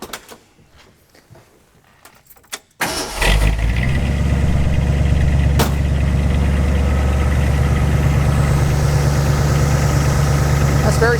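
A 1967 Ford Mustang S-code GT Fastback engine cranks and catches after a quiet moment, then settles into a steady, loud idle with a low rumble that continues to the end.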